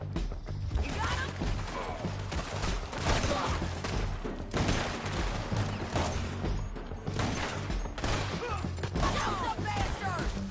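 A Red Dead Redemption 2 battle rumbles with artillery and rifle fire, steady booms and cracks layered over a low droning score, moderately loud and sustained, with occasional shouted voices in the mix.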